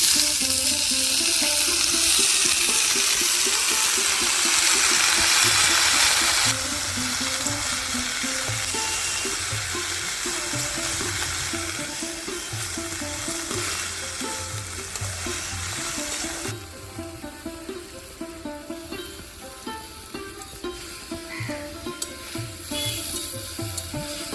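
Potato greens frying in a hot pan, a loud continuous sizzle with rhythmic stirring scrapes that eases off and grows quieter toward the end, with no talk.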